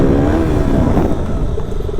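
A Bajaj Pulsar NS160 motorcycle revs hard in second gear during wheelie riding, its engine a loud, close, continuous roar holding steady for about two seconds with no voices.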